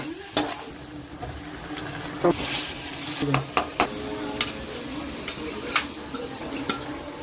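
Curry leaves crackling in hot oil in a kadhai for a chicken dish, a busy close sizzle broken by repeated sharp spatula scrapes and taps against the pan.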